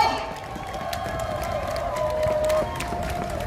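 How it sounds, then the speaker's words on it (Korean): A crowd at an outdoor presidential election campaign rally in Gohyeon Market, Geoje, claps and cheers in a steady, moderately loud wash of noise, with scattered sharp claps over the general din. "박수 한번 보내주십시오."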